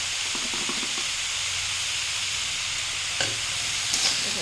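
Banana stem pieces fry with salt and turmeric in a pan, giving a steady close hissing sizzle throughout, broken by a couple of brief stirring knocks.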